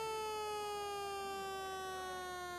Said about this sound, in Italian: Intanto però suona la sirena